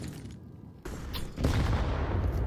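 HE grenade explosion in Counter-Strike 2, a sharp burst that swells into a loud, sustained blast with rumbling and crackling debris, with no speech.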